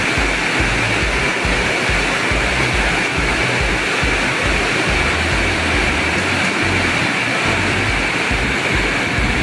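Heavy rain pours down outside a home, a dense, steady roar of broadband hiss that never lets up. No voices are heard over it.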